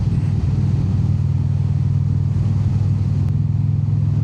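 A motorcycle cruising along a road on a Virginia ride, its engine holding a steady low rumble close up with constant wind noise, no voices over it.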